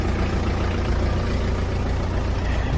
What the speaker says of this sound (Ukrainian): Вантажимо тракторець Донфен 404, G2.